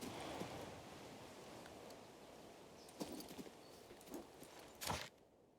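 Horse hooves clip-clop faintly while riding in the King's Bounty II video game, a few soft, irregular footfalls over a steady hiss of background ambience.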